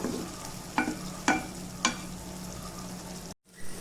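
Egg curry with curry leaves simmers on a low flame, a gentle steady sizzle with three spoon scrapes in the pan, then a brief cut to silence before the bubbling resumes.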